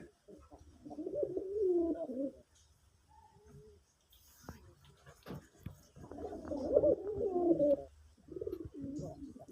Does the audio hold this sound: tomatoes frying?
no